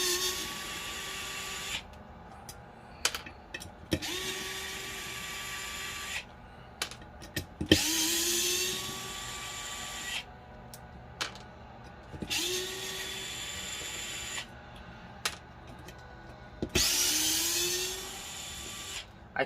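A heavy-duty impact gun runs in repeated bursts of a few seconds each, with a whirring pitch that rises as it spins up, separated by short pauses and handling clicks, while working on screws of a EUC motor.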